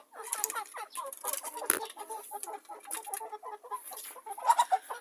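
Chickens, including a small mini meat breed hen, clucking in a busy flock, with repeated short close clucks and chirps overlapping in quick irregular bursts.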